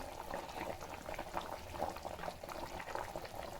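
Fish curry made with katla fish in a mustard and poppy seed sauce bubbles steadily in a pan, a dense, continuous simmering burble heard up close with no talking.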